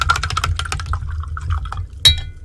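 A paintbrush is swished and tapped in a glass of clean water, producing quick splashy drips and liquid sloshes in a burst, then a final clink against the glass.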